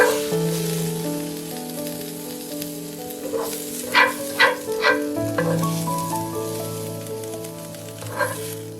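Vegetables stir-frying in a skillet with mushroom powder, a steady sizzle with a few sharp scraping and tossing bursts, under a sustained musical background.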